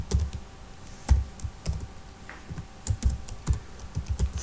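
Computer keyboard typing while C++ code is written, irregular bursts of close, crisp keystrokes with brief pauses between clusters, alone without talk.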